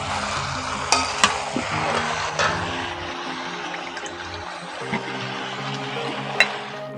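Chicken for a Bengali-style kosha is stirred and fried in a pan over a wood fire at a village home. A continuous sizzle runs throughout, punctuated by scraping spatula strokes and occasional sharp clinks against the pan.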